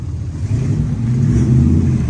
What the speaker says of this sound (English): That noise you're hearing is from an old Corvette.